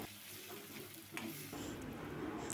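Ginger garlic paste and a pinch of turmeric frying in hot oil in a pan for mutton curry, a steady close sizzle with soft stirring scrapes and a brief louder burst midway.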